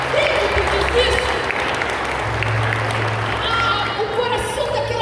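A church congregation applauds steadily throughout a Portuguese-language worship service, a dense, sustained wash of many hands, with a voice and low instrumental tones carrying over it.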